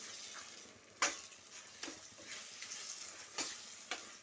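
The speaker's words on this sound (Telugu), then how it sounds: "ఒకసారి అంతా సమానంగా కలిపేసుకుంటాను." Spoon stirring eggplant paste into raw tamarind pulusu, a few soft scraping strokes against the vessel at irregular intervals over a quiet background.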